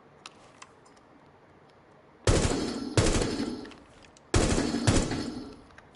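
Automatic gunfire in Rainbow Six Siege, three loud sustained bursts of rapid shots separated by short pauses, close and sharp after a quiet stretch with faint ticks and no talking.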